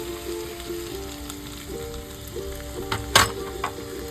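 Spice paste hits hot oil in a pan of tangra fish curry with eggplant and drumstick, giving a steady close sizzle and frying hiss with a brief louder spit of crackle near the end.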